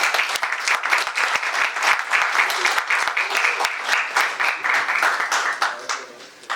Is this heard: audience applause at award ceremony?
yes